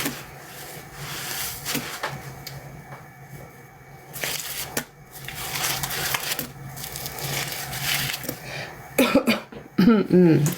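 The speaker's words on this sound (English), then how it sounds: "Don't start coughing." Coughing indoors at a laundry dump with heavy suds, a few rough bursts over a steady background hum, growing louder and more clustered near the end.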